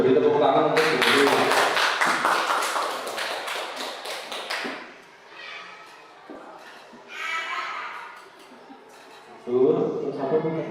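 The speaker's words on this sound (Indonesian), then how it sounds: "beri tepuk tangan untuk Bu Uli" Applause for a teacher during a school discussion session, a dense burst of many hands clapping that fills the first few seconds and then fades, followed by quieter talk and another short swell of sound near the end.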